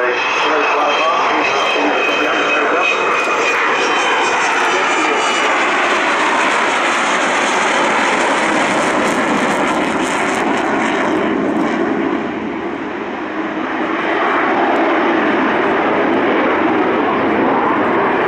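Avro Vulcan XH558 delta-wing bomber roaring through a flying display at RIAT 2013, a loud, sustained jet howl filling the whole span with a rising whistle and a brief dip near the end; a commentator talks over it.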